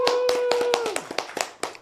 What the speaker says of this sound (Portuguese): Então eu quero pedir um forte aplauso para a pastora Tânia Tereza